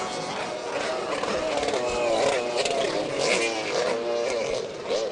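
Racing personal watercraft with two-stroke and four-stroke engines roar loudly and continuously past at a watercross race, a dense, rising and falling engine drone that fills the whole scene.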